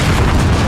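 A frag grenade detonates in a first-person shooter, a loud, dense low boom that fills the whole short moment with heavy rumble and no voices over it.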